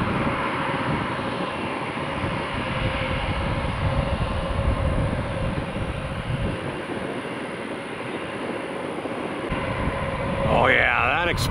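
A Bombardier Global business jet arrives at Tampa International Airport after flying in from Atlantic City, its engine roar a steady, loud broadband rumble that fills the scene continuously, with a brief rising whine near the end.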